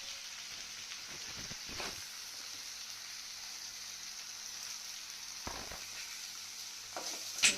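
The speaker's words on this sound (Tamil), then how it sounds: "போட்டு நல்லா வணங்கட்டும்." Pirandai, garlic, ginger and shallots frying in a pan give a faint, steady sizzle with a few short bursts of stirring scrapes at intervals and a sharp clink at the end.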